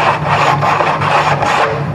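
Sandpaper rubs along the edge of thin plywood in a close, loud rasp, with several strokes in a loose back-and-forth rhythm and no pauses between them.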